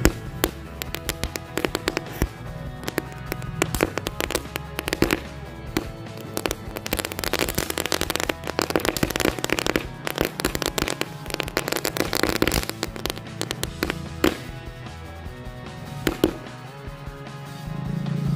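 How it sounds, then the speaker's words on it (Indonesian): A smoke firecracker mixed with a dino egg firecracker set off in a hole in the ground, giving a long dense run of rapid crackling pops and bangs that keeps going loudly throughout. "Selanjutnya kita eksperimen mercon smoke 1 kali bang, kita campur dengan mercon telur dino."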